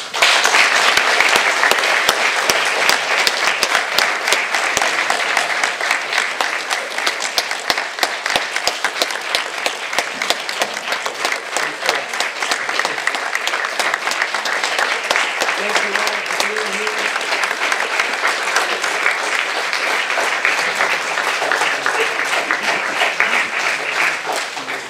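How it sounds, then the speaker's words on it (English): Sustained applause from the crowd at a veterans recognition ceremony, a dense, steady wash of clapping that holds loud and even for the whole stretch with no break. "Please give them a hearty round of applause."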